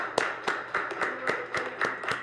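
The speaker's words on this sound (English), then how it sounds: "Let's clap it up for Glock 30." An audience claps for a competitor on a fight-night style show, about eight sharp, evenly spaced claps, close and fairly loud, sounding like only a few people clapping rather than a big crowd.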